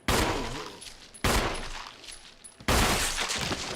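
Three heavy gunshots in the Resident Evil Remaster video game, each a sharp, loud blast with a long decaying echo, spaced about a second apart in an indoor mansion setting.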